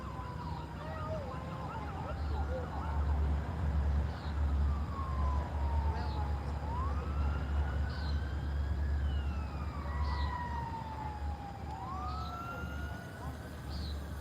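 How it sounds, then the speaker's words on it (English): Emergency vehicle sirens wail at night, rising and falling in long sweeps from a distance over a steady low rumble, with faint repeating chirps above; no one speaks. "More emergency sirens out tonight."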